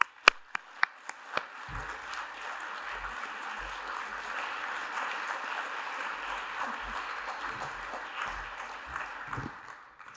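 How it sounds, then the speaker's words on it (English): Audience applause at the Fairmont Athletic Hall of Fame induction ceremony, opening with a few sharp separate claps and swelling into a steady roomful of clapping that carries on evenly for several seconds, with faint murmurs underneath. "Let's give a well-earned round of applause for Robin"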